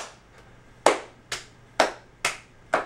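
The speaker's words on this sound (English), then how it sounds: "Clap behind." Hands clap behind the back during an arm-swing stretching warm-up: five sharp, close claps at a steady, slightly uneven pace, with only faint background between them.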